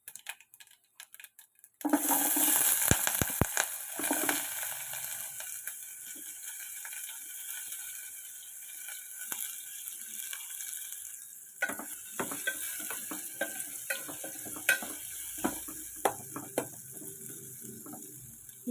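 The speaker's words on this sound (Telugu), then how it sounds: "ఇప్పుడు ఉల్లిపాయలు పచ్చిమిరపకాయలు వేసుకుందామండి." Chopped onions and green chillies hit hot oil in a pan for a tomato and brinjal curry, a sudden loud sizzle after a quiet start, then continuous frying with intermittent scraping and clicking stirs.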